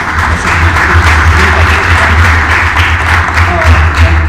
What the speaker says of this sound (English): just another round of applause, everybody